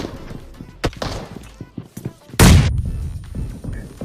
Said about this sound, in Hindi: मैं मौके में चौका मार के एक बम फेंकता हूँ